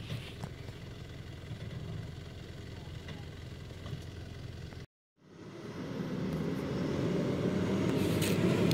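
A 4WD vehicle crawling over a washout on a mountain track at Mt Buffalo, its engine droning low and steady, briefly cutting out before rising again, with people talking over it.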